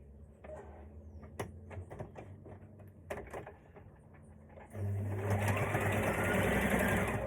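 A sewing machine stitches a maxi skirt seam, starting with a few short clacking bursts and taps, then running into a loud, steady whirring drone for the last few seconds, close by.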